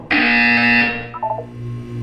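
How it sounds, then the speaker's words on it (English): A loud electronic buzzer from Portal 2 sounds once, a harsh sustained tone lasting under a second, followed by a short chime-like tail and low room hum. "When you hear the buzzer, look down at the floor."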